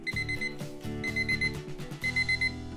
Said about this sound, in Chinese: 没错，我们就准备了闹钟